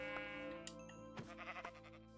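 A Minecraft sheep bleats in a short, wavering tone, followed by a few soft clicks and game noises, quiet and alone.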